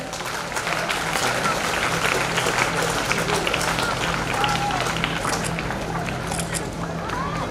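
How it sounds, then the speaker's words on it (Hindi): Audience applause at a school foundation day celebration, a dense steady roar of many hands clapping at once that fills the whole stretch, with a faint voice mixed in. "इन दोनों के लिए ही जोरदार तालियां हो जाए।"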